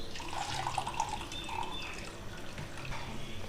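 Cold water trickles and splashes steadily as it is poured into a container for Rooh Afza sharbat, fairly close and moderately quiet.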